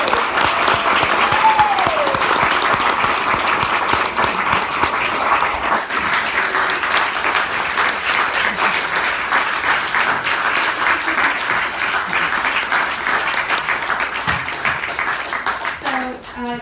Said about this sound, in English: let's give Jess a great round of applause